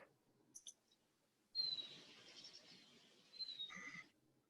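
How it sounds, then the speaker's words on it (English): Small birds chirping outside a house, faint high tweets and short calls heard from indoors, a brief chirp early and a busier burst of twittering in the middle, quiet overall. "I hear birds."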